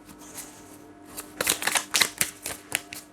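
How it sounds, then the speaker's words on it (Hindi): Tarot cards being shuffled: a quiet opening, then a run of crisp, riffling bursts and flicks in uneven rhythm, close by and fairly soft, with no talking. "one last shuffle please"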